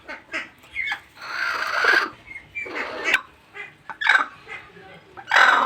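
Native hens and a Chinese duck cluck and squawk nearby in repeated short bursts while brooding eggs, with a person talking between the calls.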